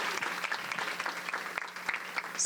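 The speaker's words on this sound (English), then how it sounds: "Let's give them a big round of applause." Luncheon audience at a talk on substance use disorder gives a round of applause, dense steady clapping from a room full of people, sustained and moderately loud.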